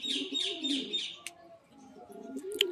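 Pigeons coo softly in repeated throaty phrases nearby, with a few sharp chirps and clicks mixed in.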